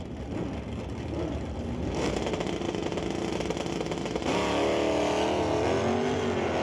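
A 1970 Buick GS drag car with a 455 engine and clutch launching at an NHRA test and tune session, a loud sustained engine roar that rises sharply in pitch and grows louder mid-run, no talking.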